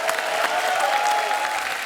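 A studio audience at a Marathi film star cast special applauds loudly and continuously, dense clapping filling the whole stretch without pause.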